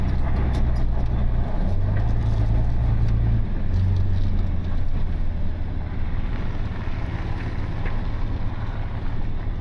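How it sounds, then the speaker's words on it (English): A broken-down vehicle stranded roadside with its engine cooling fan running hard, a steady loud low whir and rumble filling the whole stretch with rough wind-like noise on top. "I can hear my fan in there being angry."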